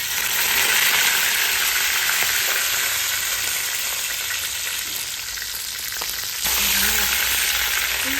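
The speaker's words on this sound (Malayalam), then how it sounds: "ഇനി ഇതിലോട്ട് ആവശ്യത്തിനുള്ള കറിവേപ്പില ഇട്ട് കൊടുക്കാം" Loud, continuous crackling sizzle of curry leaves frying in hot oil for bilimbi pickle, dipping slightly mid-way then surging again, close up with no talking.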